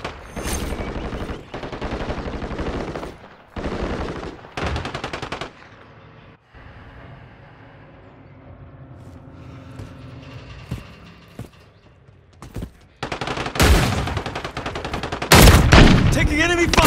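Bursts of automatic weapon fire crack loudly in Call of Duty, several rapid volleys separated by quieter stretches, with a heavy barrage building near the end.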